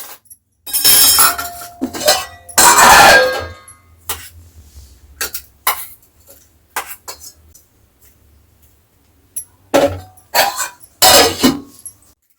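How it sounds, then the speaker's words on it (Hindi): Village kitchen dishes and utensils, set out for washing, clatter and clink in loud bursts separated by quiet gaps, with sharp metallic knocks of pots and cutlery nearby. "बर्तन सब निकाल कर रख दिए हैं धुलने के लिए"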